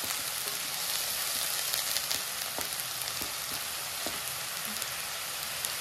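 Masala for Bengali doi katla, a fish curry, fries in a pan with a soft, even sizzle and a few faint stirring clicks, fairly quiet and without speech.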